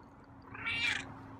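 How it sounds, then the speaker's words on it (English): A feral cat gives a single clear meow, close and fairly faint, rising and then trailing off over a quiet indoor background. "another meow"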